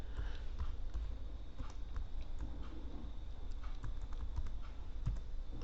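Soft, quick tapping of keys on a computer keyboard as a password is typed, steady and fairly quiet over a low background hum.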